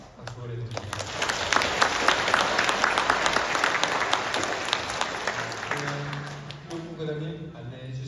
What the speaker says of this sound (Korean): 여러분 모두를 위해서 또 박수 보내드립니다